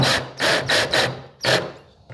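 Screws being tightened down on a sliding door hardware cover plate, a few close, rhythmic rasping turns with brief gaps between them and no voices.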